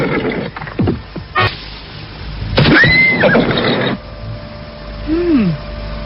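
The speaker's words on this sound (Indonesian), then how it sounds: "Ada orang berkuda menuju kemari." A horse whinnies loudly and close as a rider approaches, with a long rising neigh followed by a shorter snort-like call, amid outdoor rustling and brief vocal sounds in a period drama scene.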